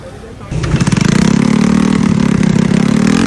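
A restored motorcycle engine starts up and then runs steadily at a close, loud idle with a constant throb. Nobody speaks during it.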